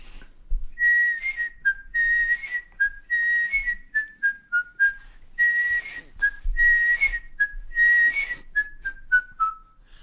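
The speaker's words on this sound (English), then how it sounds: "That whistle started the Liver Birds for 20 years." A lone whistler performs the theme tune of The Liver Birds: a bright, clear melody in short phrases with brief gaps between them, close up and with no accompaniment.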